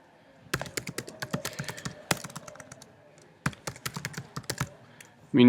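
Fingers type an email address on a computer keyboard, close, crisp key taps in quick bursts separated by short pauses, with a brief voice starting at the very end.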